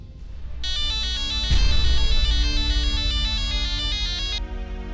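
A phone ringtone plays a bright, steady melodic tone for about four seconds during a Hindi television drama, with a soft thump near the start and low background hum beneath.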